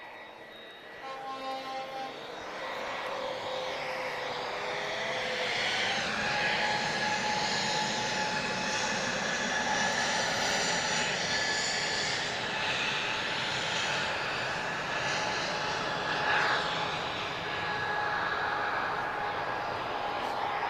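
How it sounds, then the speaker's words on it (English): Airliner taking off down the runway at Lisbon Airport, a sustained jet engine roar with whining tones that builds and holds steady at moderate distance, with no speech over it. "she's going to use the whole runway, so we'll get a nice head-on shot"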